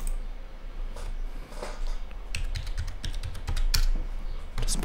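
Fingers type a password on a computer keyboard, a quick, irregular run of close, crisp key clicks that grows busier toward the end.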